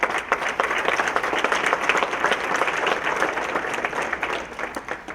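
An audience at a business appreciation breakfast applauds STEM students, a dense, fairly close round of clapping that holds steady and thins slightly toward the end.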